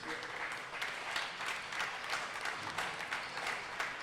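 A crowd applauds at a home-court squash match, giving a steady, dense patter of many hands clapping that carries through the whole stretch with no pauses.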